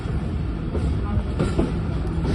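A rail car train on the line toward Rawalpindi rumbles steadily with a continuous low, even roar and faint clatter, close and unbroken throughout.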